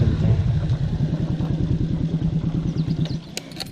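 A 70cc motorcycle idles with a rapid, even putter close by, then cuts out, followed by a few light clicks and clatters as it is parked.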